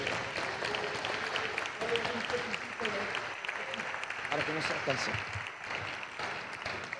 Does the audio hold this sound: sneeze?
no